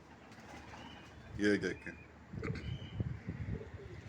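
A female pigeon coos close by in soft, throaty bursts, and someone talks briefly over the calls.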